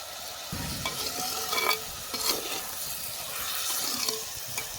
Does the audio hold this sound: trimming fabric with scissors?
no